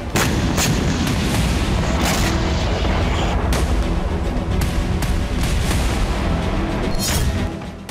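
Repeated loud booms and blasts from a drone strike at the Anapa gas pumping station in Krasnodar Krai, Russia, with sharp reports scattered over a dense, continuous rumble.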